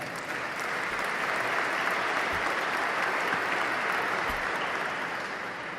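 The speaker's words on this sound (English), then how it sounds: "Big round of applause for all of our sponsors." A crowd at a cancer fundraiser applauds its sponsors, a steady, full wash of clapping that holds evenly across the whole stretch with no talk on top.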